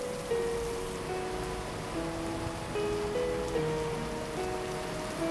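Steady rain falls outdoors during a downpour, a dense continuous hiss of drops on surfaces that holds evenly throughout with no one speaking.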